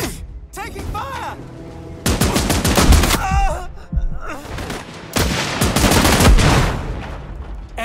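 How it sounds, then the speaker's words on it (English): Rapid bursts of gunfire in the game Last Train Home, dense volleys of loud shots in several clusters with short gaps, while voices speak over parts of the exchange. "Taking fire!"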